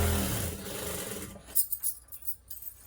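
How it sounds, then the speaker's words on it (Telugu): Sewing machine stitching the fall onto a saree, a close steady mechanical whir that stops partway, followed by a few light taps and clicks of handling the cloth. "శారీని ఇలా అడ్జస్ట్ చేసుకుంటూ ఇలా జరుపుకుంటూ ఫాల్ అనేది కుట్టుకోవాలి"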